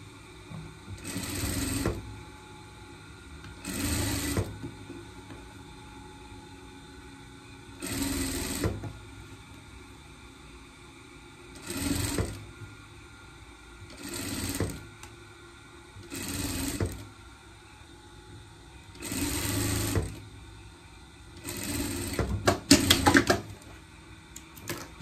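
A domestic sewing machine stitching a hem on a small fabric pet dress, in repeated short loud bursts of rapid whirring stitching separated by quiet pauses, close up.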